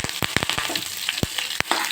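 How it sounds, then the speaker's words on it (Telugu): Cumin, mustard seeds, a dried red chili and curry leaves frying in hot oil in a kadai for tempering, giving a loud, close, continuous sizzle with sharp popping crackles scattered throughout. "అదే కళాయిలో కొద్దిగా అయితే ఆయిల్ అయితే వేసుకొని పోపు అయితే వేసుకుందాం జీలకర్ర ఆవాలు కొద్దిగా ఒక ఎండుమిర్చి వేసామంటే"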